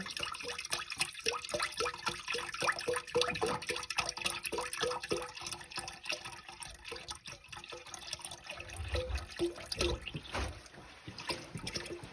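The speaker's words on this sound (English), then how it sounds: "All right, so we're going to pour that in here" Beef cooking stock pours steadily into a slow cooker pot, gurgling and splashing up close for several seconds before tapering off.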